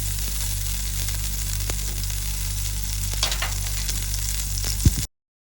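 A tablespoon of butter sizzles in a hot pan, a soft steady crackle over a low hum, with a brief clatter just before it cuts off.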